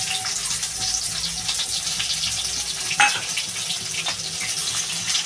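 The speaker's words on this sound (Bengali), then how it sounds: "আর এই যে যে রসুনটা থেতো করে রেখেছি এবার দিয়ে দেব রসুনগুলো" Crushed garlic hits a pan of hot oil for a Bengali fish-head curry with bitter gourd. A busy, crackling sizzle runs close and loud the whole time, with a brief sharper pop midway and no voices.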